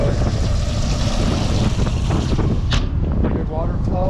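Water streams steadily from the outboard motor's telltale on a 2026 Hewescraft 200 ProV ET HT during an on-water sea trial, a continuous rushing splash mixed with wind noise and brief voices.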